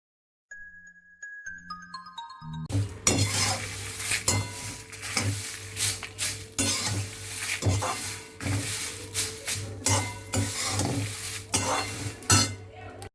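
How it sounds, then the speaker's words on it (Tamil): Cumin, tamarind, salt, chili and asafoetida dry roasting in a pan for naratha ilai podi, with steady scraping stirs and metal clinks of the spoon against the pan after a quiet start, close and continuous. "இது எல்லாத்தையும் இப்போது ட்ரை ரோஸ்ட் பண்ணி எடுத்துக்கலாம்."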